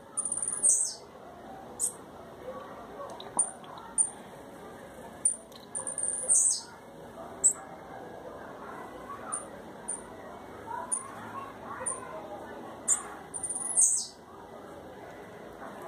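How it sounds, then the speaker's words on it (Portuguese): A blue-black grassquit (tiziu) at a breeding aviary gives short, high, bright chirps and brief song bursts, repeated at irregular intervals over a faint background murmur. "Olha lá, como é que ativa o passarinho"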